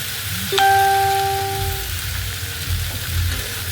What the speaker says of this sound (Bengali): আবার ভালো করে ভাজি করে নেবো মশলার সাথে। ঢ্যাঁড়সটাকে ভালো করে নাড়াচাড়া করে নেবো।